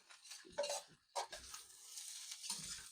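Fried rice sizzles quietly in lard in a pan while utensils stir and scrape against it in a few short bursts.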